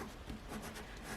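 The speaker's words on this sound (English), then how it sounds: "We're going to be sketching on something a little bit rougher. So here's watercolor paper." A fountain pen sketches across rough watercolor paper in soft, scratchy strokes, faint and close, with quick uneven rasps as the nib skips over the textured surface.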